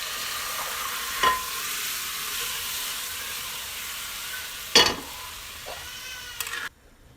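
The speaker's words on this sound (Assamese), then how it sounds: "ইয়াত তৰকাৰী লাহেকৈ গৰম হৈ আহিল, উতলিছে।" An Assamese knife fish curry with taro and tomato simmers in a pan, giving a steady close hiss and bubble broken by a few brief clinks and knocks before cutting off.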